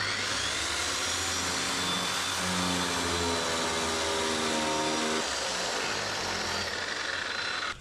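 Floor heating channel milling machine cutting into screed with its vacuum running alongside, a loud steady grinding roar with a shifting whine that holds throughout, close and continuous.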